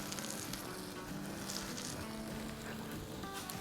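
Malai seekh kebabs cooking in a pan give a steady, even sizzle throughout, a dense continuous frying hiss with no voices.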